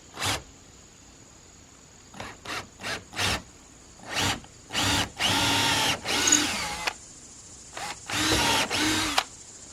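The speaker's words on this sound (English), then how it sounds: "I'm just going to pre-drill at a fairly steep angle right here" A power drill whirs in a series of short bursts that grow into longer, steadier runs as the bit bores a pilot hole into wood at a steep angle, close and fairly loud.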